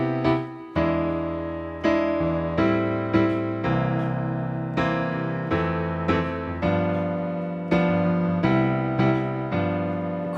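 Sustained piano seventh chords change one after another in a slow, steady progression, each struck firmly and ringing out rich and full, with no voices.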